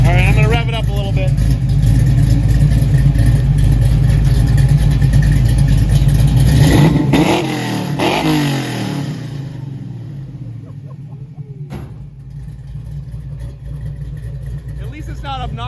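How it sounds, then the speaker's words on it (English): A car engine with new mufflers and an H-pipe rumbles loudly up close, then revs up and settles back to a lower steady drone, with a voice speaking over it. "I'm gonna rev it up a little bit."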